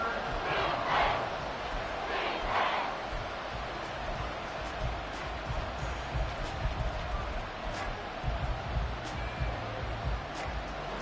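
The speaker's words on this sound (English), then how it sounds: "this crowd is making an impact right now" Stadium crowd roaring at a football game, a loud continuous wash of cheering with a few shouts rising above it and no clear pauses.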